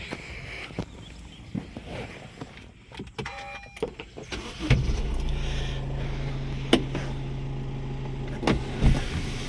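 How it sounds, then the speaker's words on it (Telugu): Sunroof motor of a 2019 Honda WR-V 1.5 VX diesel with manual gearbox runs inside the cabin. It gives a steady, smooth electric hum that starts partway through and continues to the end, with a few faint clicks. "సన్ రూప్ మోటార్లో కానీ షెల్టర్లో కానీ ఎటువంటి నాయిస్ అయితే లేదు చాలా పర్ఫెక్ట్ వర్కింగ్లో ఉంది సన్ రూఫ్"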